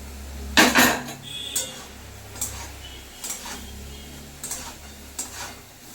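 Fried chicken pieces tipped into a pan during home cooking, heard as a few sharp metallic clanks and scrapes of utensil against pan, spaced out over quiet background hum.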